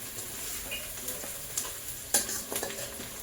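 Onions frying in a pan for a pabda fish curry, with tomatoes about to go in, crackling with a steady sizzle while a utensil stirs and scrapes in a few louder bursts near the end.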